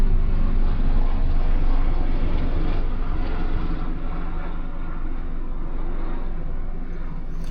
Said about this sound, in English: Helicopter goes over.